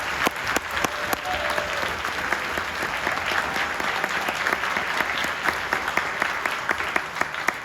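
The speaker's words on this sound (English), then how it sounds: "I think Mr. Oat, we deserve to give him a round of applause for all of his leadership." Audience applause for a school band director: steady, moderately distant clapping from a crowd sustained evenly throughout, with individual sharp claps standing out.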